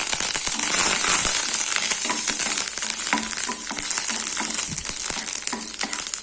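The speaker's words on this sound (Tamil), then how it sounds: "கடுகு பொரியுது" Mustard seeds splutter and pop in hot oil while an okra stir-fry is being started. The sizzle is close and continuous, with dense crackles and sharp little pops throughout.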